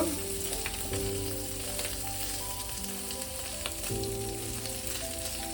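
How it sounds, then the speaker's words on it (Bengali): Small mourola fish sizzle and crackle steadily in hot oil in a pan, a continuous close frying hiss, with a few stirring sounds and no talking. "উল্টে দিয়ে আরেক পিঠ আমি ভালো করে ভেজে নেবো।"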